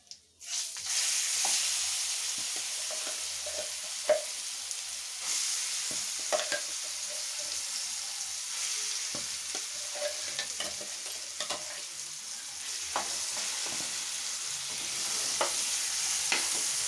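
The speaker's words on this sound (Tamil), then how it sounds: "இதெல்லாம் சேர்த்து நல்லா இந்த நல்லெண்ணெயிலேயே நல்லா வதக்கி விடுங்க" Curry leaf paste sautéing in sesame oil, a continuous close sizzle broken by repeated scraping and stirring strokes of a spoon in the pan.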